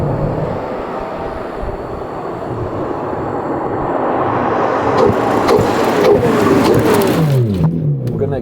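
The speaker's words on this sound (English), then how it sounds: "you can hear the gravel being picked up, all the tiny rocks from those super sticky tires just being thrown around." A Ferrari drives along with engine rumble building, and small gravel stones flung up by its sticky tires patter and tick against the car in the later part, heard from inside the cabin.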